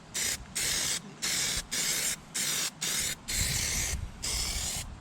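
Close, steady hiss of PlastiDip rubberized paint sprayed onto OZ Racing Vega wheels for a Porsche 911SC, laid on as a heavy second coat in a rhythm of about seven short bursts with brief pauses between them.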